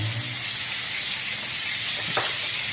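Ingredients for ginataang hipon, a Filipino shrimp dish, sauté in a pan, giving a steady, close sizzling hiss with no talk over it.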